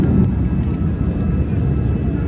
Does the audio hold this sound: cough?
no